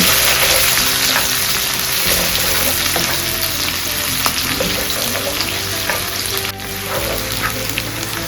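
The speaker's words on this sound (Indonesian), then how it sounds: "Terus bawang brambangnya mlebu bolo. Diudek-udek sampai ambune seger." Shallots stir-fried in a pan alongside chilies for a garlic-flower stir-fry, giving a steady, close, continuous sizzle with occasional scraping stirs and no talking.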